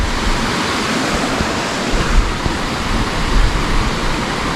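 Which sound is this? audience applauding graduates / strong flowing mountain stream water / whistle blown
strong flowing mountain stream water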